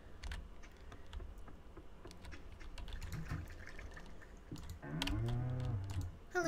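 Cows moo on a farm in the video game Stardew Valley, with a single clear moo near the end over quiet game ambience and soft keyboard typing.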